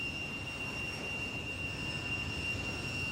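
Fighter jets taking off in an anime sound effect: a steady, loud jet-engine roar with a sustained high whine running unchanged throughout.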